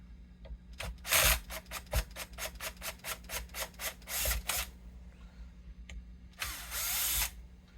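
A Bosch power drill whirs in a rapid series of short bursts while working on a vintage 1961 Gibson SG, then runs one longer, steadier spin, with tool clicks between.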